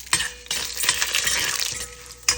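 Chana dal hitting hot oil already popping with mustard and cumin seeds, a close, steady sizzle and crackle with scraping stirs and a sharp clink near the end.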